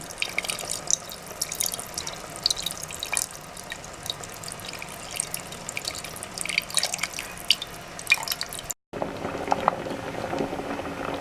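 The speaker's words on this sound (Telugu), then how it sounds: "ఇప్పుడు చింతపండు పులుసుని పోసుకోవాలి" Tamarind extract poured into a fish gravy, making a steady splashing, bubbling liquid sound with dripping and patter, then a brief cut before the bubbling resumes.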